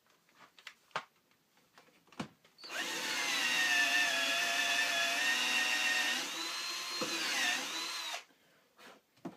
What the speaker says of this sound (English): using my barrel trimmer in my drill to flatten off the tops